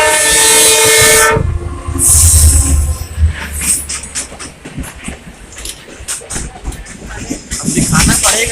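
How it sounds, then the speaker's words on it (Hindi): A train passing at night near the Padmavat Express route, with a loud horn blast, a second horn, then rhythmic clattering wheels and rumbling carriages going by, close and loud. "उस साइड से लग रहा है कोई ट्रेन आ रही"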